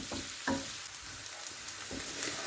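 Onion frying in a pan with a little salt, a soft steady sizzle up close broken by a few stirring scrapes of a utensil, no talking.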